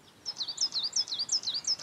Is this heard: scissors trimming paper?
no